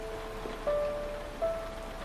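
Heavy rain pours steadily outdoors, a dense constant hiss with faint tonal hum underneath, no voices present.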